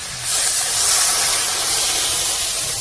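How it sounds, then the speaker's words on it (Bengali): Water poured into a hot pan of fried potatoes erupts into a loud, steady hiss and sizzle that swells quickly and holds, with no talking. "এবার জল দিয়ে দেবো।"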